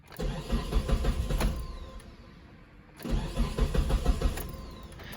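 A 2006–2012 Mitsubishi Eclipse GS 4G69 engine cranks for a couple of seconds without catching, pauses briefly, then cranks again, whirring and grinding at close range.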